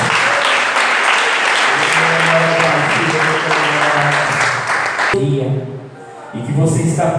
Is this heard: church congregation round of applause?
yes